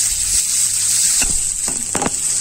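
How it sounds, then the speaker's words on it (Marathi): Chopped onion and green chilli sauté in oil in a pan for methi bhaji, a loud, steady close-up sizzle with a few stirring scrapes of the spatula against the pan. "आणि हे पण आता व्यवस्थित कांदा तेलामध्ये परतवून घेऊया"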